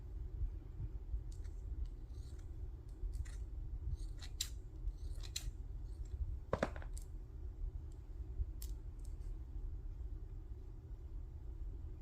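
Scissors snip through a piece of lace in a series of short, crisp cuts at close range, scattered irregularly over a steady low background rumble, with no talking.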